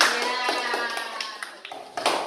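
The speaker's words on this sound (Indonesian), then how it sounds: "kasih tepuk tangan untuk Rasya walaupun agak sedikit salah." Children clap together in an Indonesian classroom after a pupil answers a question, with a brief ragged burst of hand claps while a voice talks and rises over them.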